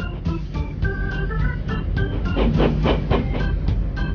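Steam locomotive hauling coal wagons starting to move, with a continuous rumbling rail noise and rhythmic clanking and clicking of the cars, fairly loud and close.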